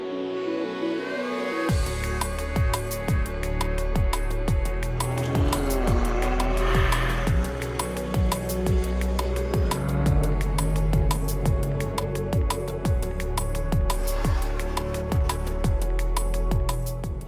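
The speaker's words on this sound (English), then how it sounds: "we're just going to go and chase the Chiron along this road" A Bugatti Chiron and other cars on a parade lap along a road, heard from inside a car as a loud, steady engine roar with a rapid, regular ticking pulse running throughout and a sudden start at the beginning.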